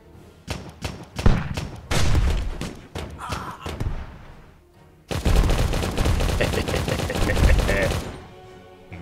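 Gunfire in a steampunk tower defense video game: bursts of rapid, punchy shots in a quick stuttering rhythm, a brief lull, then a longer dense volley, all fairly loud.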